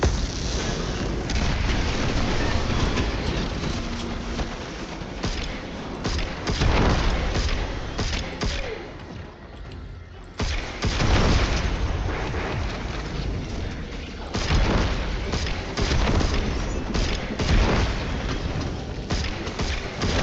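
Bane Knight bombs exploding during a Destiny 2 Vesper Host boss fight, a dense run of heavy booms and rumbling blasts that continues with only a brief lull, loud and close.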